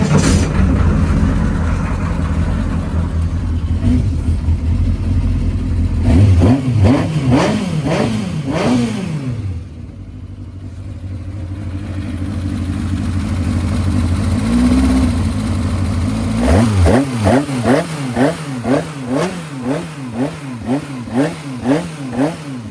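Hillman offset engine fitted with motorbike internals revving on a dyno, sounding like a motorbike, with loud close rising and falling revs and a rapid series of sharp blips near the end.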